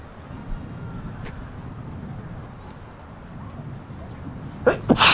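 A brief, sharp sneeze close to the microphone in a commentary booth at a girls' high school soccer match, bursting out at the very end over steady crowd and field ambience.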